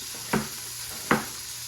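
Beef for a fall stew sizzles in a pan as it finishes cooking, a soft continuous frying hiss broken by two brief scraping stirs about a second apart.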